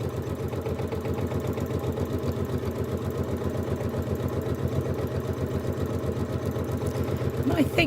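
A Janome sewing machine quilts through cushion layers with a continuous, even mechanical chatter, close and moderately loud throughout, with a brief faint voice near the end.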